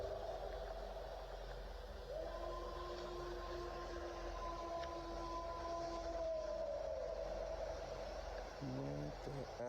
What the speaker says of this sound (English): An ominous howl echoes through the trees.